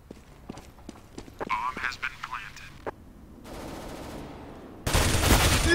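Gunfire in Counter-Strike: Global Offensive comes as quick sharp shot bursts and rattling volleys, followed by a sustained loud roar toward the end. Players talk over the action.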